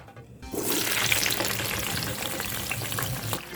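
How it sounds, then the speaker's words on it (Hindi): Chopped tomatoes and green chillies hit hot oil in a pan for mutton karahi, bursting into a loud, steady sizzle that holds evenly to the end, with no talking. "टमाटरों को हम हल्का सा भूनेंगे"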